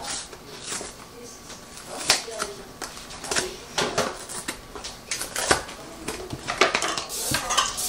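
Metal whisk clattering against a bowl while mixing coconut pecan cake icing, with repeated sharp clinks and scrapes in an irregular rhythm, close by, with a voice talking in the background.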